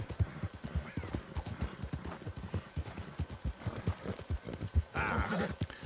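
Horse hooves clip-clop in a steady, quick rhythm in Red Dead Redemption 2, close and moderately loud, with a short whinny-like burst near the end and no talking.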